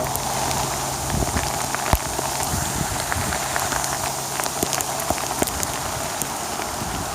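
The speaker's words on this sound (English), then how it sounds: "It's hailing. It's not rain, it's hail." Hail falling outdoors on the Oregon coast at Lincoln City, a dense steady patter of ice pellets striking surfaces nearby, with sharper individual ticks and clacks standing out from the wash.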